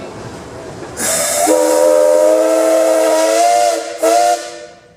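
A steam engine's whistle sounds at a town parade: a loud, close, sustained chime blast with a hissing onset, then a short second toot, and no voices.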